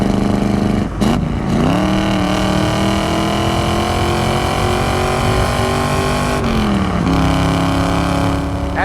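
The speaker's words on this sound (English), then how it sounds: "it has a really unique and a very kick-ass sounding exhaust system" A 1969 Chevrolet Camaro Z28 with its DZ 302 V8 and chambered exhaust drones loudly and steadily from up close, pitch climbing through the gears with brief dips at two shifts, no voices over it.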